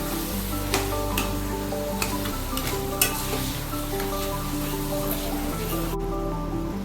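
Chopped taro leaves with turmeric and salt sizzle steadily in a hot pan while a spoon stirs them, the dense crackle broken by repeated scraping strokes, close and continuous with no talking.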